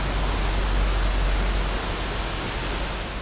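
South Creek Falls roars as a dense, steady broadband rush of falling water, close and loud throughout, with a deep low rumble underneath and no voices.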